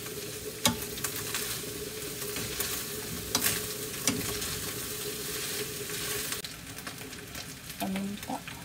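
Potatoes and hotdog sizzle in a pan with a steady frying hiss, punctuated by scattered clinks and scrapes of a utensil stirring them.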